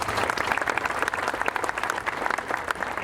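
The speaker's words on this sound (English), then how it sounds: "so a round of applause for them." Audience applause at a Vietnam memorial dedication ceremony in Key West, Florida: dense, steady clapping from a sizable crowd that keeps an even level throughout, with no voices over it.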